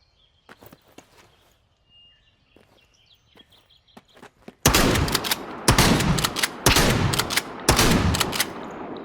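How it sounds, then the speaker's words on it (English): Shotgun blasts ring out while hunting rabbits in the survival game Zelter: four loud, booming shots spaced about a second apart follow a stretch of quiet footsteps and faint birdsong. "So let's hunt rabbits with the shotgun."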